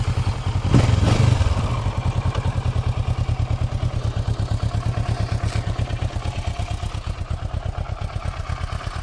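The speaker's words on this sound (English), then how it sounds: "Let's start the engine." A Kawasaki Versys 650 motorcycle engine cranks and fires with a brief loud burst, then settles into a steady, close, rhythmic idle putter that lasts several seconds.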